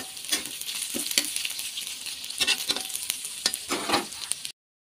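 Chopped onion and garlic sautéing in a hot oiled pan, a continuous loud sizzle with repeated scraping stirs of a spatula throughout.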